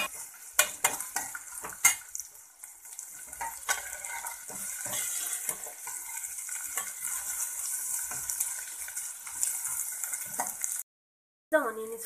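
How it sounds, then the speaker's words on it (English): Onion, green chilli and curry leaves frying in a pan crackle and sizzle steadily, with a utensil clinking and scraping against the metal in sharp irregular knocks, close and without talk, cutting off briefly near the end. "The onion is fried."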